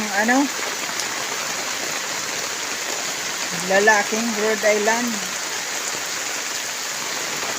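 Steady rain falls continuously as a constant wash of noise, with someone speaking briefly over it.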